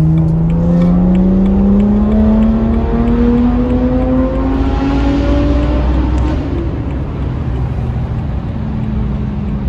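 Loud, steady engine drone heard from inside a BMW sports car cabin, its pitch climbing smoothly as it accelerates past 5000 rpm, then shifting after a gear change.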